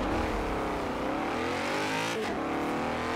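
A stock 2011 BMW X5 M in Forza Horizon 4 launches and accelerates, its engine note climbing steadily and loud throughout, with a brief quick gear shift near two seconds.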